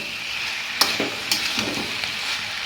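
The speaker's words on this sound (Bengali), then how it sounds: "পুরো তরকারিটাকে নাড়িয়ে হলুদটা পুরো মাখিয়ে দেবো।" A wok of potato curry with turmeric being stirred, with soft scraping strokes and an oily sizzle underneath, a couple of sharper clinks of the spatula against the pan, close and steady, with no voices.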